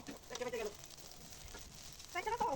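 Chopped banana stem with minced coriander leaves sizzles steadily in a pan while being stirred, with a soft, continuous frying hiss and a few brief voice-like tones rising over it at the start and end.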